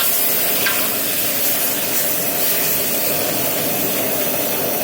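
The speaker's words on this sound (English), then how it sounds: "A good stir." Tomato relish being stirred in a big pot on the stove, a steady loud bubbling hiss and sizzle with faint scraping, continuous throughout.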